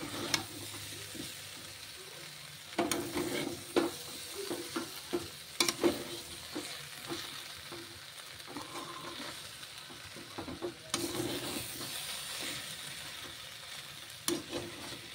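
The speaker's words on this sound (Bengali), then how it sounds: "মশলাটা দিয়ে এবার হালকা কষাতে হবে।" Spice paste for shukto sautéing in a pan, soft continuous sizzle broken by repeated clinks and scrapes of stirring, fairly quiet and close.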